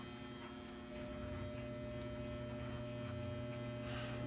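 Electric hair clippers trimming hair during a home fade haircut give off a steady, moderately quiet mains-frequency buzz that runs unbroken throughout, with faint scraping passes of the blades over hair and no talking.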